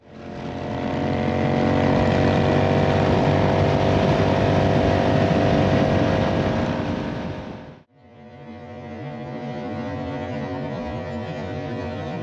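A Honda Rebel 1100 motorcycle at speed, heard from the rider's seat: a loud, steady roar of engine and wind that dips sharply for a moment partway through, then carries on a bit quieter.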